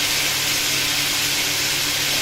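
Chicken fillets sear in a hot pan, giving a steady, close, broadband sizzling hiss that holds evenly throughout with a faint low hum beneath.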